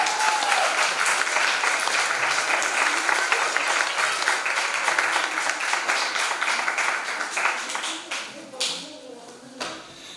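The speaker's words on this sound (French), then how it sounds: "Et voilà, on peut applaudir bien fort Léoric." An audience at a stage magic show applauds after a card trick, with dense, loud clapping sustained for several seconds before thinning out into scattered claps near the end.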